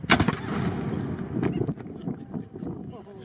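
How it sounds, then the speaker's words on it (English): A historic fort cannon at Fort Marion in Florida is fired for tourists, giving a sharp loud blast followed by rumbling echoes and crowd noise. "On weekends, when the weather is good, the cannon is fired for tourists."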